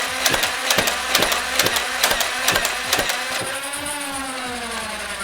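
A stock NERF Ultra Select blaster fires darts on full auto in a rapid series of sharp mechanical cracks, about a dozen shots, before its motor whines on alone, close and loud.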